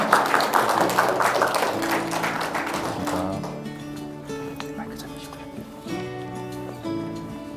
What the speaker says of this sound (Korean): 자, 큰 박수로 모시도록 합니다